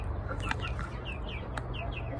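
Chickens at a backyard coop with a rooster nearby, a few short, close clucks and chirpy calls over a steady low background hum.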